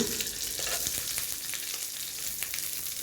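Onions and green chillies sauté in a hot pan for agathi keerai poriyal, a steady, close sizzle and crackle of frying that runs without a break and with no voices.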